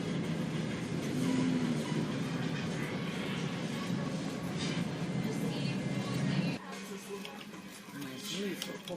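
A train rolls along its rails with a steady rumble and rattle throughout, while people talk over it. The noise drops abruptly near the end, as if passing into a different section.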